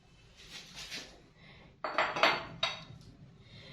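A large bowl set out for marinating fish with yogurt, clattering and clinking against utensils in a few bursts, quieter handling first, then louder knocks midway.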